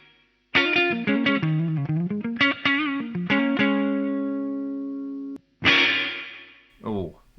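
Distorted electric guitar played through a Korg A3 effects unit on its plate 2 reverb setting, a run of notes ending in a long sustained chord that rings out, then a couple more struck chords.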